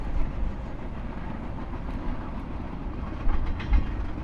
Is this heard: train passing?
yes